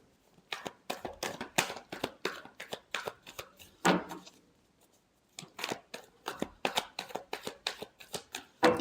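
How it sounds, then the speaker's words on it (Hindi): A tarot deck is shuffled close by in quick rhythmic bursts of riffling card snaps, with a brief pause midway before the shuffling resumes. "Last shuffle."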